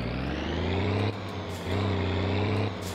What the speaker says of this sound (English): Right, parking brake off.